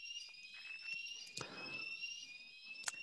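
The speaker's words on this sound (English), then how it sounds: "the fire alarm has just started going off" A building fire alarm sounds during a test, a steady high electronic tone held continuously throughout, with faint room noise and a brief thump beneath.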